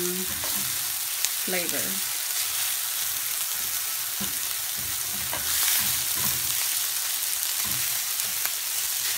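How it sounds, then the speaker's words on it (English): Onions and other vegetables stir-frying in about three tablespoons of grapeseed oil for a quinoa stir-fry, giving a steady close sizzle with occasional stirring scrapes and a brief spoken word. "Now let that fry for a little bit."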